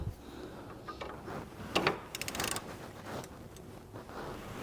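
A socket wrench working loose a nut on a shock absorber during a Corsa C suspension job gives a short burst of ratcheting clicks in the middle, heard close up over faint background noise.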